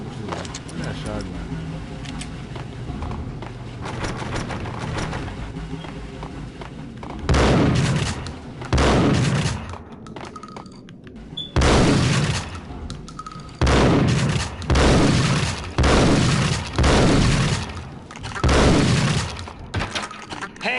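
Shotgun gunfire in the video game Max Payne: a run of loud, sharp blasts comes at irregular intervals through the second half, over steady game sound, with someone talking.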